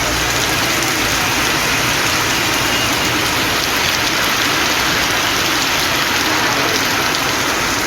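Heavy rain falling steadily during a thunderstorm in Tamil Nadu, a dense, loud, continuous hiss of downpour on surfaces throughout with no voices.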